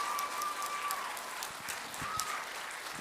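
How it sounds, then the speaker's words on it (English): An audience at a December children's drumming performance claps steadily, heard faint and distant with a soft room wash and a couple of brief tonal squeaks. "Can we clap one more time?"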